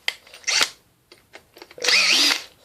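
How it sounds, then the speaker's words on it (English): A power drill works a part off an Alpha CD24 combi boiler during a diaphragm and hot-water valve job. Two short, close bursts sound, the second longer, with the motor whining up and back down. "So I'm just going to pop it off with a drill"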